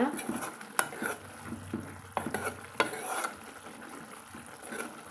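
A spoon stirs Kerala-style green cowpea kootu simmering in a pot, giving a few sharp scrapes and clinks against the metal amid a soft bubbling hiss, close and moderately loud.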